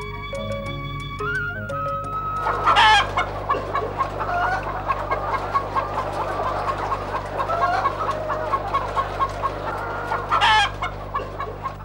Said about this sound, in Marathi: काही गावकऱ्यांनी कुक्कुटपालन सुरू केलं